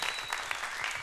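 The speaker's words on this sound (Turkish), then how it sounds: "Alkışlar, alkışlar evet." A studio audience applauds on a Turkish television show set. A brief, soft, even burst of clapping without talk.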